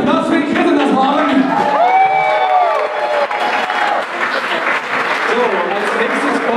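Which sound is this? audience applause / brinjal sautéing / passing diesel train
audience applause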